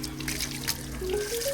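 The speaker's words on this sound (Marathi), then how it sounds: "नॉर्मल आपलं फक्त असं पाणी मारायचं आहे बस." Water sprayed onto a Yezdi Adventure motorcycle during a home wash, a steady splashing trickle heard fairly close, continuous over the short stretch with no talk.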